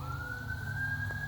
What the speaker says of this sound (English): hold on, there's a siren.